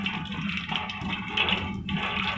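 A roasted eggplant with burnt skin is put straight into water, making a steady rushing, splashing water sound for a couple of seconds.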